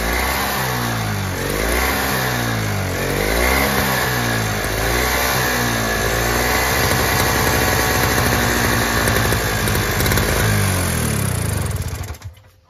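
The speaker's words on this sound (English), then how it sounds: "So actually this engine sounds pretty good, you know." A Toro single-stage snowblower engine runs on choke with a dirty carburetor, droning loud and close with its revs rising and dipping in waves before it cuts off abruptly at the end.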